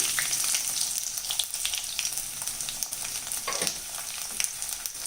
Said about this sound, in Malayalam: പെരിഞ്ജീരകം ഇട്ട് ഇനി വെളുത്തുള്ളി അല്ലി ഇട്ട് കൊടുക്കാം.